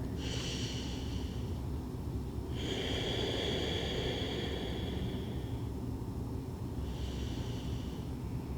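Deep, full yoga breaths are drawn in slowly, with three long airy inhales and exhales close to the microphone and quiet pauses between them.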